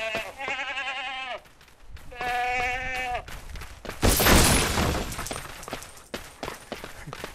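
Goat bleats in the Lego Worlds video game, two drawn-out wavering cries in a row, followed by a sudden loud crashing burst and scattered clattering game effects.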